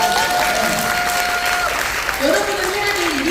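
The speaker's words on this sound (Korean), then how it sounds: "그럼 박수를 쳐야죠" An audience at a network marketing seminar claps together, a brief burst of applause with a voice talking over it.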